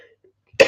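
A single short, loud cough bursts out close by after a moment of near silence.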